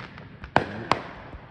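New Year's midnight fireworks: two sharp bangs with a few softer distant pops and thuds over a quiet background.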